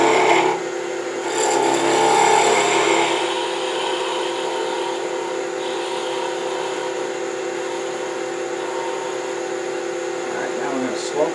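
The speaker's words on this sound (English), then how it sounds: "Again, use my spindle gouge." A spindle gouge cuts a wooden spindle spinning on a lathe, giving a steady whirring, scraping hiss that runs the whole time, a little louder near the start, with some speech-like sound in the mix.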